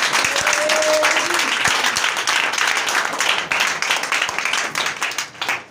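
A church congregation breaks into sustained applause, dense and loud clapping from many hands that slowly thins and fades toward the end.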